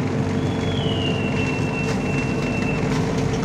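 KA Singasari passenger train pulling out of Kebumen station at night, a loud continuous rumble of rolling cars with a long high wheel squeal drawn out across the middle, no talk.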